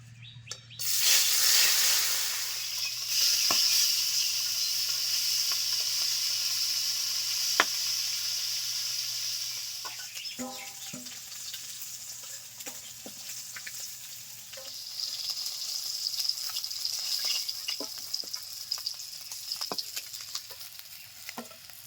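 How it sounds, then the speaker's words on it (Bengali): Singi and koi fish frying in hot oil: a loud hiss bursts up as the fish go in, then settles into a steady sizzle with occasional spatters and clinks, birds faintly calling in the background. "এই যে মাছগুলো ভেজে নিচ্ছি"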